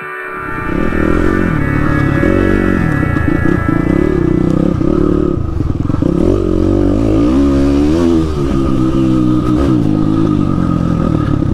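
A motorcycle accelerates around a backyard motocross track, its engine loud and close as it revs and climbs through the gears, the pitch rising and falling steadily with no break.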